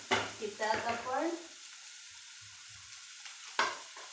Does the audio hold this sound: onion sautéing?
yes